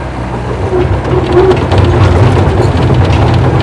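A mini excavator in the 6,000 to 8,000 pound class idles with a steady low engine rumble while its swing drive operates quietly, a constant loud drone throughout with no distinct clanks.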